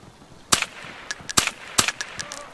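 Sharp gunshots crack in DayZ, a handful of single reports spaced irregularly over a couple of seconds, fairly loud and alone.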